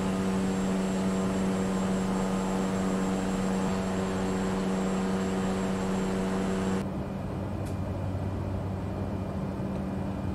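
A steady propeller aircraft engine drone in Microsoft Flight Simulator during a descent toward Naples, holding an even hum before the tone suddenly drops to a softer, lower whir as power comes back.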